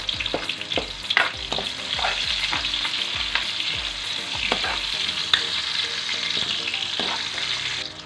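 Onions sautéing in a pan after garlic has been browned, a steady broadband sizzle with repeated scraping stirs from a spatula throughout, close and fairly loud over faint background music.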